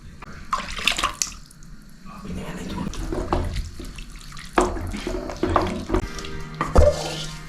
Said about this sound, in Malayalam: ഈ പുളിവെള്ളം നമുക്ക് ഇതിൻ്റെ അകത്തേക്ക് ആഡ് ചെയ്യാം